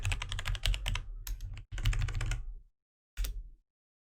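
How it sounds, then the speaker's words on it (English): Fast typing on a computer keyboard, close and crisp, in two dense bursts of clicking keys, then a pause and one short final flurry. "Apologies for the typing."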